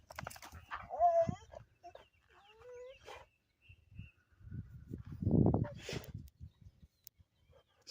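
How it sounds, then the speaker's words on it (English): A dog barks in short, sharp bursts near a homestead chicken coop under construction, with clucking chickens and a rooster calling in the background and someone talking briefly. "What are you even barking at, dude?"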